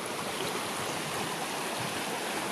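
A flooded river rushes fast over and around logs, a dense, steady roar of water that fills the scene, close and loud, with no talking.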